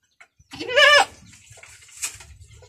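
A pet goat gives one clear, loud bleat with a wavering, harmonic voice, followed by a quieter bleat-like sound and low background rumble.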